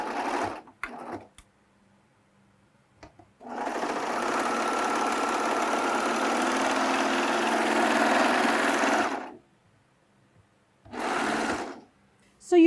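A serger sews a blind hem with the blind hem foot: a fast, even machine whir running for about six seconds, followed later by a shorter burst, with brief clicks between and nearby talk.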